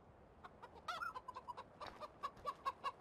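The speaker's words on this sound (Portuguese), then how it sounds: "Ó, tem galinhas brancas." White chickens in the video game Farming Simulator 2015 cluck in quick, uneven bursts, fairly close and steady, with no talking.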